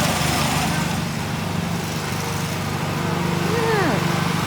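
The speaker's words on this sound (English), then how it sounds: "cutting up the grass." A lawn mower running steadily outdoors, its engine drone continuous and fairly close with low hum under light background noise and a brief chirp near the end; people talk around it.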